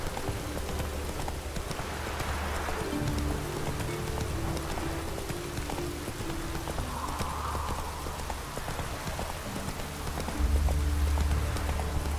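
Rain falls steadily in The Witcher 3, a continuous hiss that runs through the whole scene. Horse hooves clip-clop nearby over it.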